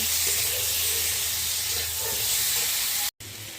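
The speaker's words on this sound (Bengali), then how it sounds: "কড়াইতে তেল দিয়ে জিরা ফোড়ন দিয়ে কেটে রাখা আলুগুলোকে দিয়ে স্বাদ মতো লবণ হলুদ দিয়ে লাল করে ভেজে নেব" Steady, dense sizzling hiss of potatoes frying in oil with cumin, close and continuous, with a brief cut just before the end.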